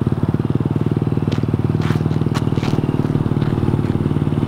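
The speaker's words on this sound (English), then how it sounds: "Oh, Drake, I'm about to give it gas." A mini dirt bike's small engine idles with a fast, steady, loud throbbing pulse throughout, up close, with a few brief scrapes and clatters on top.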